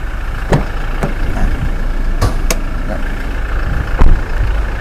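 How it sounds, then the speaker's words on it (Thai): A 2020 Toyota TRD Sportivo pickup with a 2.8 diesel engine idles steadily in a low rumble, with a few sharp clicks and knocks from nearby over the drone. "ฟังเสียงเครื่องยนต์ไปด้วยนะสำหรับ FC ที่อยู่ทางไกล"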